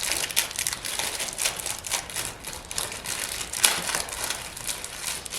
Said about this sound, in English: we're gonna pour those marshmallows onto that paper towel